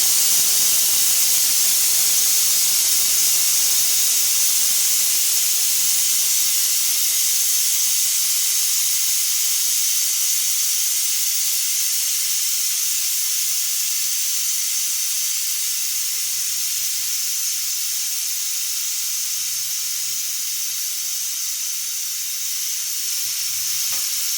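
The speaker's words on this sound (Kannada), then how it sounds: "ಈ ರೀತಿ ಪ್ರೆಷರ್ನ ತೆಗಿಬೇಕು." Pressure cooker releasing steam after three whistles while cooking lentil sambar, a loud, steady, close hiss that slowly thins over its length.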